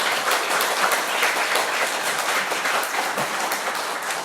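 A church congregation breaks into steady, dense applause that fills the room, many hands clapping together at an even, sustained level with no voices over it.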